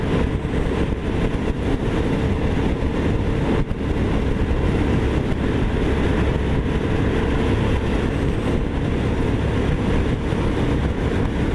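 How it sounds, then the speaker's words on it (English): A Honda VTR1000 SP1 motorcycle ridden on open roads, a loud, sustained engine drone with heavy wind rush that holds steady for the whole stretch. "letting you just hear the sound and enjoy how this bike behaves on some great roads."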